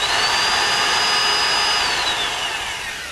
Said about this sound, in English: Now I'm going to drill a hole in front of the cat and measure the pressure there.